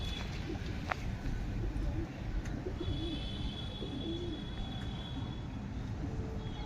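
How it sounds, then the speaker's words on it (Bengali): Domestic pigeons in a Howrah pigeon-keeping setting coo repeatedly at close range, with soft burbling calls and a few chirps over a faint outdoor background. "এই পায়রাগুলো দাদা উড়িয়েছে বাড়িতে"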